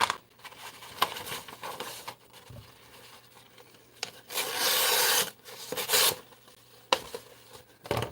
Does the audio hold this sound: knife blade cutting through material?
yes